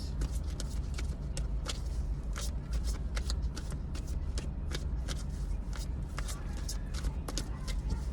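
African goddess oracle cards are shuffled by hand for a reading, a steady run of crisp riffling card snaps and flicks repeating close up for several seconds over a faint background hum.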